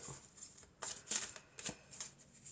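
A tarot card slides out of a deck with a few soft, brief papery flicks and shuffles, quiet and close.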